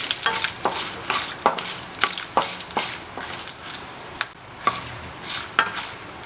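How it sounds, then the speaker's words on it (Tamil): Dried red chillies roasting on medium flame in a pan after urad dal for a spicy chutney, with a soft frying sizzle under repeated scraping stirs of a spatula, close and uneven in rhythm. "காஞ்ச மிளகாய் சேர்த்துக்கோங்க. அதையும் மீடியம் ஃப்ளேமில் வச்சு வறுத்துக்கலாம்"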